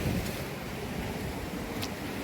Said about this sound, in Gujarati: દરિયો છે,